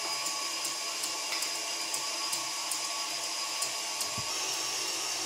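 An electric hand mixer whips egg whites to firm peaks while sugar is added gradually, a steady close, high motorised whir running unbroken with faint clicks and no talk.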